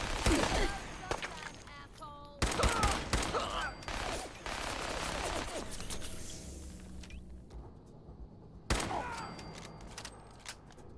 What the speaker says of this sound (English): We begin to shoot, but Ak comes in with her minigun.